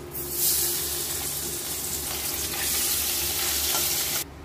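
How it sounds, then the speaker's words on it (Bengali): Small fish, mourola, sizzle loudly in hot oil, giving a dense, continuous hiss close up. The hiss swells midway and then cuts off abruptly near the end. "বাকি মাছগুলো আমি ভেজে নিচ্ছি।"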